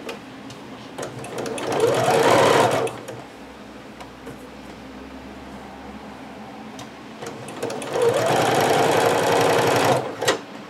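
A sewing machine stitches a zipper in two loud running bursts, its rapid mechanical whir and ticking rising, pausing briefly, then resuming before easing off near the end.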